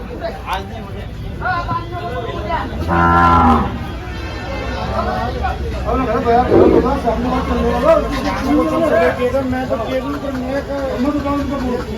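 A Gir cow lets out a loud, drawn-out moo amid the steady chatter and babble of a crowded cattle market, with someone talking nearby.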